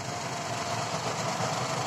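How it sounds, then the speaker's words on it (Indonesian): A 1990 Toyota Kijang Super with its 5K 1500 cc engine idling, giving a steady, smooth, even hum that holds without a break and with no talking over it. "Mesinnya masih pakai 5K 1500 cc."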